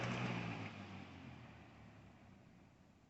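A Lasko 20-inch box fan, model 3733, spins down after being switched off, its steady whooshing hum with a low motor tone fading gradually and evenly over a few seconds, heard alone.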